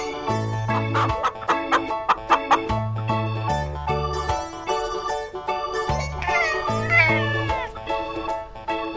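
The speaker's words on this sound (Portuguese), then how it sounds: "gato" A domestic cat meows in a few short, clear cries over a bed of bouncy children's music, the calls standing out near the middle and toward the end.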